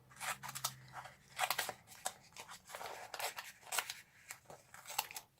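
Scissors snip through card being trimmed to size, a close, quiet run of crisp cuts in uneven clusters with brief pauses between strokes.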